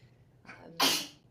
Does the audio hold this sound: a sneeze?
yes